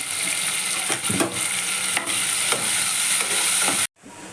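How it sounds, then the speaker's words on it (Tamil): Onions, green chillies and curry leaves sauté in hot oil with fennel seeds. There is a loud, continuous close sizzle with periodic scraping stirs, and it cuts off abruptly near the end. "சோம்பு வெடிஞ்ச உடனே வெங்காயம், பச்சை மிளகா, கருவேப்பிலை எல்லாத்தையும் போட்டு நல்லா வதக்கிக்கணும்."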